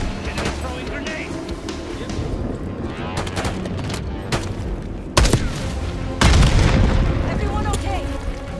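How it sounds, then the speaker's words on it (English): Grenade blasts and heavy gunfire in a Call of Duty Black Ops 6 battle, loud continuous shooting punctuated by two sharp booming explosions, with voices talking over the combat. "Throwing grenades."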